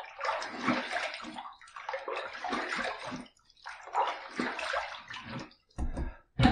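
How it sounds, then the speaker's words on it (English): After a shave with a double-edge open comb razor, water splashes in bursts at a bathroom sink, several sloshing rinses with brief pauses between them, close and clear, with no talking. "All I have to do is one cold water rinse and the shave will be complete."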